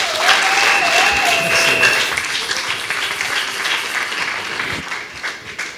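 A church congregation applauds loudly and steadily throughout a service, a dense wash of clapping with a sustained tone ringing over it at first, the whole gradually easing in volume toward the end.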